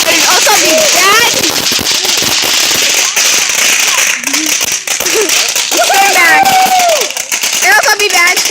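Fireworks go off in rapid, crackling bursts, loud and close, popping almost continuously while people talk over them.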